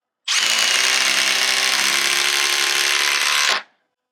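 A 12-volt impact driver, Milwaukee Fuel Gen 3 or DeWalt 12v Xtreme, drives a 4-inch GRK screw into wood with a continuous loud buzzing hammer lasting about three seconds, close, then cuts off abruptly.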